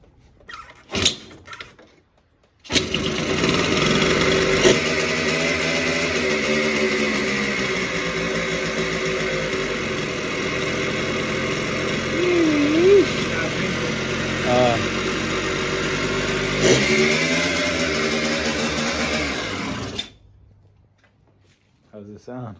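A 1989 Yamaha 70cc motorbike engine catches and runs steadily for about seventeen seconds with a buzzy idle, then cuts out; voices talk briefly before it starts and over the running engine.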